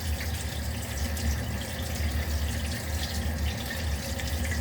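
Tap water pouring steadily into a newly installed smart sink with the drain plug closed, a constant close splashing rush with no break and no talk.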